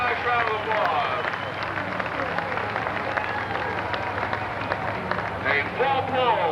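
A grandstand crowd at a 1996 United States Hot Rod Association tractor pull in Evansville, Indiana claps and cheers after a full pull, a loud rolling patter with shouts and whistles mixed in over a low engine rumble.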